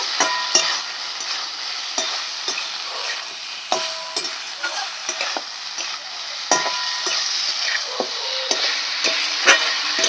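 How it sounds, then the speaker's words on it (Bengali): Fennel paste, ginger powder and chilli powder frying in a pan for an okra curry, bright sizzle with frequent rhythmic spatula strokes, loud and close, no talking. "সামান্য একটু আদার গুঁড়ো পরিমাণ মতন লঙ্কার গুঁড়ো মশলাটা একটু ভালো করে কষিয়ে নেব"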